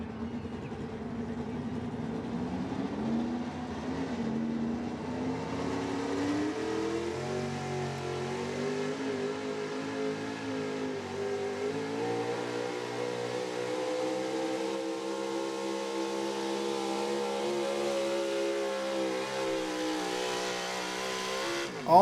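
A 1985 Chevy 4x4 gas pulling truck roars at full throttle down the track at a truck pull, a loud sustained engine howl that climbs steadily in pitch over many seconds with no talking.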